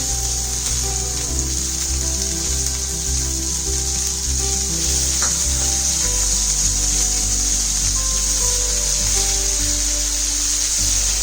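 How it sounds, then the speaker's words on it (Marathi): Gravy poured into hot oil for paneer korma sizzles loudly and steadily with a broad hiss, close up, while a low rhythmic thumping pattern runs underneath. "आपण तयार केलेली जी ग्रेव्ही होती ती ग्रेव्ही आता टाकूया."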